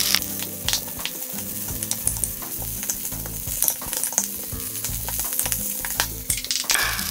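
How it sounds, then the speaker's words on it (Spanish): Leftover cooked rice sizzles and crackles in a hot pan for Chinese fried rice (chao fan), with steady frying noise and scraping, clattering stirs as the grains are broken up. "Acá le vamos a agregar el arroz viejo y lo vamos a romper rápidamente."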